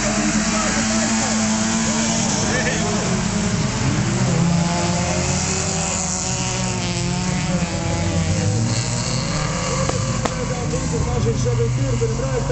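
Folkrace cars roar off the line at the start of a semi-final, several engines revving and snarling together at close range, with a commentator talking continuously over the din.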